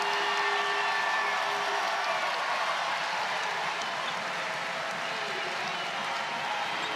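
A college women's basketball arena crowd, Tennessee against NC State in a second-round tournament game, roars and claps steadily for the Wolfpack near the finish, a dense sustained wash of cheering.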